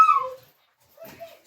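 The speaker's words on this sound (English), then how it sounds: "My dogs are playing." Pet dogs playing indoors, with a brief high whimper at the start, then a pause and a couple of softer yips and whines, close and fairly faint.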